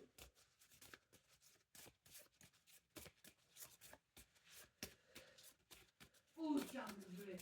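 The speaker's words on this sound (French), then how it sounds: "je vais vous tirer une carte de numérologie en plus de ces cartes" Numerology tarot cards being shuffled and drawn from a deck at close range, soft papery flicks and riffles repeating through the clip under someone talking, with a louder burst of card handling near the end.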